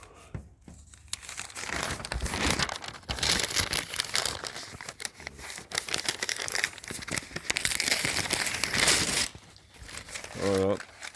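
A sheet of paper is crumpled and crinkled close to the microphone in repeated bursts of crackling rustle, with a brief voice near the end.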